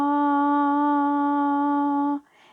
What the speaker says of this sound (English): So this is the sound of fa.